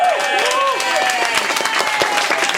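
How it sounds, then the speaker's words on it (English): Audience applause at a literary reading in an art bar, a dense burst of clapping from a room of listeners with cheers and whoops mixed in. "let's give up a big round of applause."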